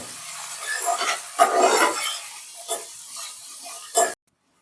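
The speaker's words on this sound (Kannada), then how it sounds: "ಈಗ ಆನಿಯನ್ ಹಾಕೊಳ್ಳೋಣ, ನೀಟಾಗಿ ಫ್ರೈ ಮಾಡ್ಕೋಬೇಕು." Onions frying in a pan with curry leaves and chilli for veg fried rice, a soft sizzle with stirring scrapes and a few louder bursts, close up, no talking, ending abruptly.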